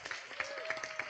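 Audience applause at a conference awards moment, a steady moderate patter of clapping with soft crowd murmur and a faint tonal hum underneath, continuous through the short stretch.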